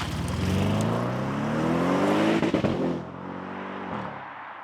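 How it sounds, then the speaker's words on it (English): A powerful 4-litre V8 engine in an Audi RS6 C7 estate car revs hard and loud with a deep, rising roar, then eases off and settles into a lower, steady rumble. "let's listen to the 4-litre V8 in all its glory"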